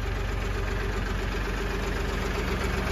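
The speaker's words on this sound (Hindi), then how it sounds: "किसान ने डिलीवरी ले ली है और ट्रैक्टर लेके चल पड़े हैं भाई" A farm tractor pulls away after delivery from a dealership, its engine running as a steady, loud, continuous rumble with a low, regular throb throughout.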